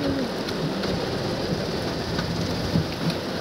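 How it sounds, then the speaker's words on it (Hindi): Heavy rain pours in a steady, dense hiss from start to finish, with no voices over it. "और बारिश देख रहे हो भाई भयानक, रुकेगी नहीं बारिश"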